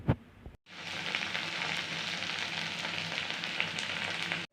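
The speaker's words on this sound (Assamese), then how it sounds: "ধোৱাৰ পিছত মই গেছৰ ফ্লেমটো ল' কৰি 2ডাল বামলা মাছ ভালকৈ মই পুৰি লৈছোঁ" Two Bombay duck fish roast over a low gas flame, giving a steady, close, hissing sizzle that runs unbroken for several seconds after a brief pause at the start, with no voices.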